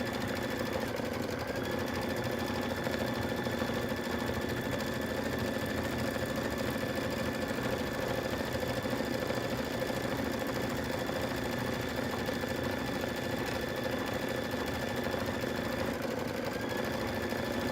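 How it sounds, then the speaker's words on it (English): A Brother Luminaire embroidery machine stitching out a simple design hums in a steady, fast, even rhythm from start to finish, close and continuous with no talking. "the machine's not having a problem going through the stitch out"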